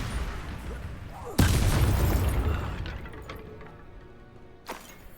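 A Confringo spell blast in Hogwarts Legacy: a sudden loud explosive boom that rumbles and decays over a few seconds, followed by a smaller thud near the end.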